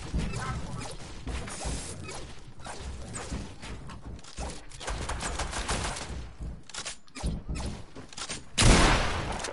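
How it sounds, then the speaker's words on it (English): Bursts of gunfire in the video game Fortnite, warning shots fired in rapid irregular volleys with clattering mechanical sounds between them, ending in a louder crash-like blast. "I'm giving him some warning shots"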